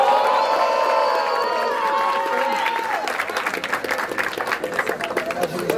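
Crowd at a Brazilian rap battle roars and cheers, the shouting swelling into rhythmic clapping and chanting from a large audience, loud and sustained.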